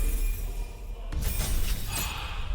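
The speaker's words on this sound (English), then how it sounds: "of course we're going to take Shatter, why wouldn't we, for a ranged AoE Thunder attack" The Shatter spell, a ranged area-of-effect thunder attack in Baldur's Gate 3, bursts with a sharp crackling crash followed by a rushing, ringing shimmer that swells and fades over a low rumbling bed.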